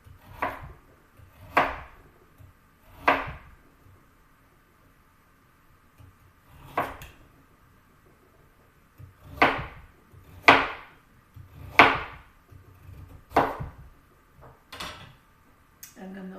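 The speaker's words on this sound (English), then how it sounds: "The carrots, you're gonna cut those into about 1 centimeter thick slices as well." A knife chops through carrots on a cutting board, slicing them into thick rounds with about a dozen sharp, irregular knocks spread over the stretch and quiet gaps between them.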